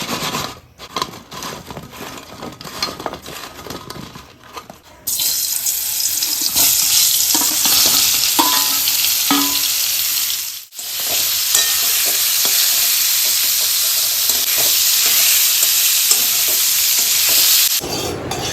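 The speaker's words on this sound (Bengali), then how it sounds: "এদিকে এখন পটলটা নুন হলুদ মাখিয়ে নিয়ে ভালোভাবে ভেজে নেব।" Pointed gourd (potol) coated with salt and turmeric fries in a pan with a loud, dense, close sizzle. Clattering stirring noises come first, and the sizzle runs steadily with one brief dip midway.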